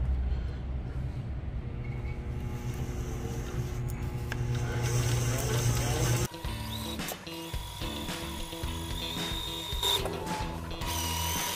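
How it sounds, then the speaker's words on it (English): White hollow-core braided line winds onto a fishing reel with a steady mechanical whir and clicking ratchet, close and even, shifting pitch partway through as the winding changes speed. "We're going to go ahead and spool this one up with the white now."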